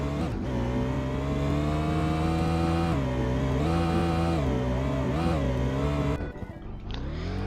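Motocross bike engine in the video game Car Legends, a continuous buzzing drone that revs up and down in waves before cutting off briefly and picking up again.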